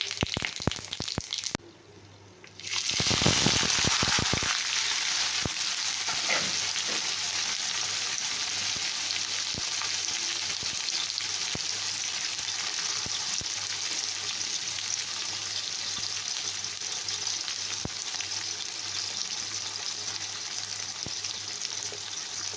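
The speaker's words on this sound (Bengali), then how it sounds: "পেঁয়াজটা এবার লাল লাল ভাজা হয়ে গেছে" Onions and whole spices with a bay leaf fry in hot oil in a pan, producing a loud, dense, continuous sizzle that briefly dips near the start before surging back and holding steady, with no talking.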